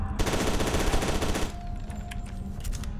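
Loud, rapid automatic fire from the Andra SMG in the PC game FEAR 2: Project Origin, a dense continuous burst for about a second and a half, then quieter game ambience with faint scattered impacts.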